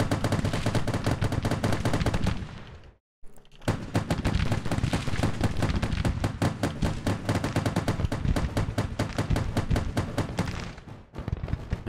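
Artillery bombardment in the strategy game Grand Tactician: dense, rapid volleys of sharp cannon reports crackling almost continuously, with one brief pause before the barrage resumes.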